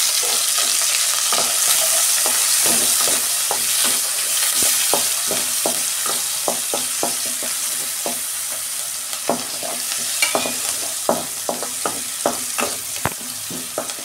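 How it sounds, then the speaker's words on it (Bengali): Chopped onion and green chilli fry in hot oil in a wok, a steady loud sizzle running throughout with repeated sharp scraping stirs of a spatula, close and without talk. "পেঁয়াজটা আমি একটু লাল লাল করে 2 মিনিট ভেজে নেব।"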